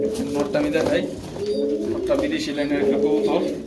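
Pigeons at a pigeon farm coo in a continuous low, rolling chorus close by, with voices murmuring underneath.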